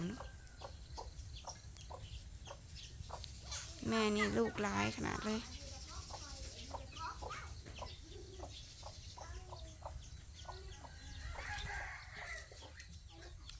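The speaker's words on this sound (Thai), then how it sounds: "ไก่ไม่ลูกอ่อน" Hen clucking repeatedly with chick peeps and other farmyard fowl sounds nearby, while a person talks over the top.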